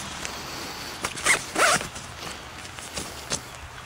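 Zipper on the storm flap of a heavy-duty combat tent fly, two quick rasping pulls near the middle followed by softer, shorter zips, close and clear with no talk.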